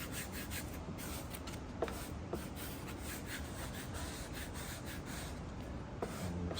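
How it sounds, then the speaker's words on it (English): A squeegee rubbing protective film onto a Spyder F3 saddlebag makes continuous close, soft scraping and swishing strokes in a quick repeating rhythm, with a few faint ticks along the way. "And you're squeegeeing from your center to the outside."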